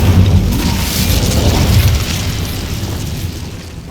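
An Incendio fire spell cast in the video game Hogwarts Legacy bursts out as a loud roaring whoosh with a low rumble that slowly fades over a few seconds, with no voices over it.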